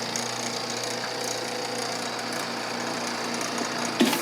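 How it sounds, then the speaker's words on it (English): A Podtopic 380 paper sheet feeder machine runs with a steady, dense mechanical whir and clatter throughout, with a sharper knock near the end. "Now let's go ahead while the machine's running and take a look at the front of the feeder."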